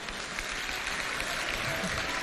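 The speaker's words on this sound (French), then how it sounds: "Applaudissez pour elle." An audience at a talk show on women's role in a national dialogue claps in a moderate, continuous round of applause, fairly quiet and with a murmur of crowd noise underneath.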